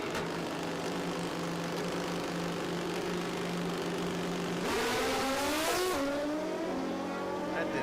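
Kawasaki drag racing motorcycle at a drag strip, its engine droning steadily before surging into a loud rising howl as it launches off the line, heard from trackside at some distance.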